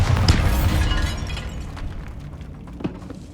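A Bombarda spell goes off in the video game Hogwarts Legacy, giving a loud booming burst at the start that fades into a rumbling, crackling tail, with a smaller thump near the end.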